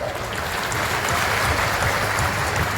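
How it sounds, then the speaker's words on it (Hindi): A crowd at a kavi sammelan at Bageshwar Dham applauds steadily, a dense even wash of clapping that holds at one level from start to end with a low hum beneath. "शुभ सूचना लगी है तो जरा पीछे तक तालियां बजाओ।"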